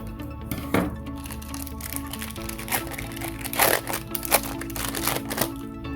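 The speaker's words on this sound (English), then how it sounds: "Let's cut open our Model Magic pack." A pack of Model Magic modeling clay is cut open, with close crinkling and crackling of the packaging and small clicks of the scissors, fairly quiet and with no talking.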